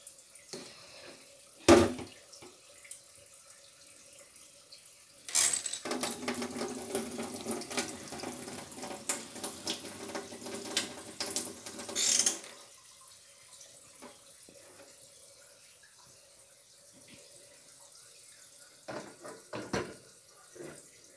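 Water runs from a kitchen tap into the sink for about seven seconds as something is washed, a steady splashing rush with faint clatter before and after, no voices.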